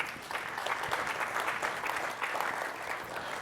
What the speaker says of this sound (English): You just gave yourself a round of applause.